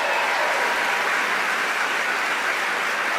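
A comedy club crowd applauds to welcome the host Kenny Mock. The applause is a dense, steady wash throughout, with no voices over it.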